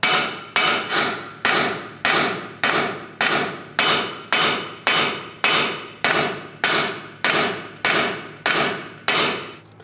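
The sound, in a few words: hammer tapping car suspension knuckle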